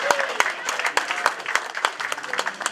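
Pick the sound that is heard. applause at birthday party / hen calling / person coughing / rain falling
applause at birthday party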